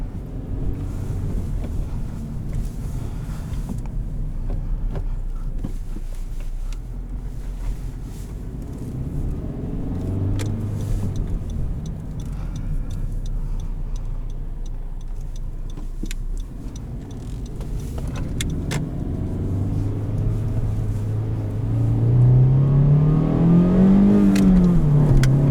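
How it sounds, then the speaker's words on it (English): A 2018 Honda Civic LX manual engine hums under steady road noise, its revs rising and falling as it rev-matches between shifts, with a strong climbing rev near the end. "rev matching is super easy"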